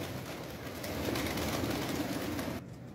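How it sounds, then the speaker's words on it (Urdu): Pigeons being released flutter and coo amid a busy outdoor wash of noise, fairly faint, with a brief drop near the end. "کبوتر کڈن لگے نے"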